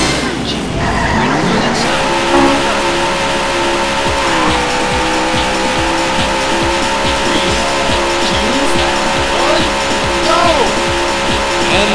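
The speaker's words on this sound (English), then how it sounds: "Gentlemen, start your engine." Race car engines roar and tires skid at the start of a race in the arcade game Daytona USA, loud sustained engine drone with rising revs and squealing tires, continuous throughout.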